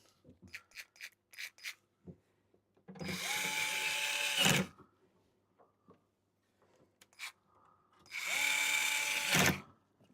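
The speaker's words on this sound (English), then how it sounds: "let's just put bloody half the screws in" A power screwdriver drives screws during a live electronics repair, two sustained whirring bursts of about a second and a half each, separated by quieter clicks and handling taps of small parts.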